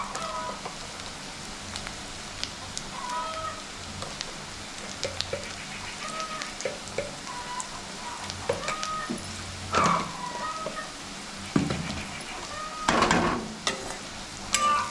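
Snails cooked with salt and turmeric are stirred in a pan, a sizzling hiss under repeated scraping and clattering strokes that grow louder toward the end, without talk.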